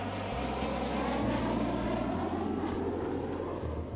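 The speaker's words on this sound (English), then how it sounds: "practiced touching down at Kennedy Shuttle Landing Facility using the shuttle training aircraft to simulate the shuttle's unique characteristics" The Shuttle Training Aircraft flies during landing practice at Kennedy Shuttle Landing Facility, giving a steady, loud aircraft engine roar with a low droning hum throughout.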